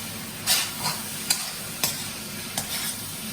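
Shrimp frying fast in a hot wok for shrimp and veggie fried rice, a steady sizzle broken by several sharp scraping stirs and clatters of the spatula, close and fairly loud, with no talking.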